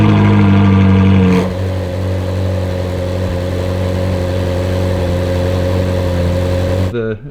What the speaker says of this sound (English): I'm actually going to start the car so you can hear what it sounds like on a cold start with the factory exhaust